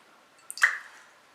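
An egg dropped into a bowl of milk for bread dough lands with a single soft, wet plop and brief splash, close and quiet, in an otherwise hushed space.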